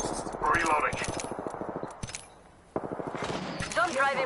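Rapid bursts of gunfire in the video game Apex, loud and close, mixed with brief in-game voice callouts and clattering effects.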